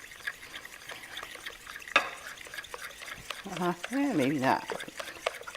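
Spoon stirring banana bread batter with coconut sugar in a bowl, a close soft scraping with a few sharper knocks, under intermittent talk and a brief vocal sound near the end.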